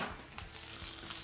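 Onions and garlic sizzle and fry in a hot pan while chilaquiles are being cooked, a steady, close crackling hiss with no talking.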